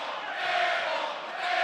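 Crowd at a Utah State vs UNLV college basketball game reacting loudly after a missed three-point shot, with a sustained roar of jeers and shouting that rises and falls.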